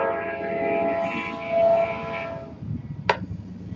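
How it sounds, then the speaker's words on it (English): A train passes nearby with a loud sustained horn-like tone and rumble that fades into a rattling, clattering roll, with one sharp click near the end. "I apologize for the noise of the train."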